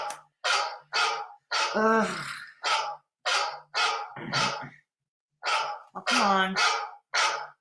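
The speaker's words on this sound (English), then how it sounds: "Yeah, my phone barks at me." Dog-bark phone ringtone sounding in short repeated yaps in a steady pattern, while a person sighs and grumbles between the barks.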